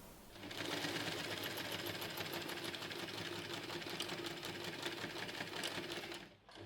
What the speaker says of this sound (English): Sew along both edges, leaving a 6-inch opening on one side for turning.